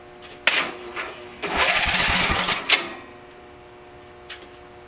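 An old tractor engine turns over on a battery boost without catching, several clattering cranking bursts in a row with a longer churning stretch in the middle, then the motor falls quiet.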